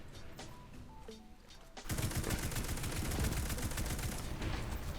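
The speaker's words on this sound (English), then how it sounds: "Let's switch to an auto rifle here." Rapid bursts of auto rifle fire in Destiny 2, a dense, punchy stream of shots starting abruptly near two seconds and running loud and steady to the end, after quieter game sounds.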